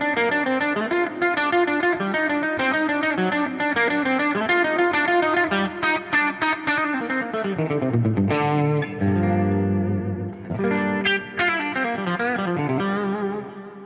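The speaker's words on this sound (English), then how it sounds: "practice with lots of distortion to see how clean your playing is" Electric guitar played through heavy distortion, with chord and single-note phrases ringing out loud, continuous and saturated, with no talking.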